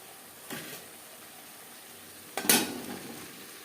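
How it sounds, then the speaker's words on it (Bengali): Ground spices with turmeric and salt are stir-fried over low to medium flame for a cauliflower fry. Two short, soft scraping stirs come about two seconds apart over a quiet background. "স্বাদ মতো লবণ তিন চার মিনিট লো টু মিডিয়াম ফ্লেমে মশলা কষিয়ে নেবো"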